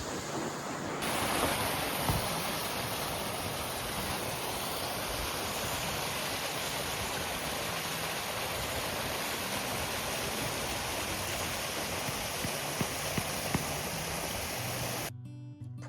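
A waterfall in snowy winter Iceland gives a constant, dense roar of rushing water that stays steady and loud throughout, with no voices.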